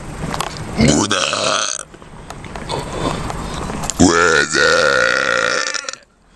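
A person burping while out on the road: two long, loud, gurgling belches, the second deeper and more sustained, with short gaps of ambient noise between them.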